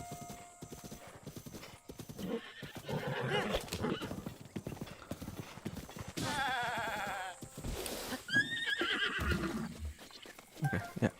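Horse in the video game Breath of the Wild galloping with rhythmic hoof clops, breaking into whinnies and neighs midway, alongside other game sounds and bleating-like animal calls.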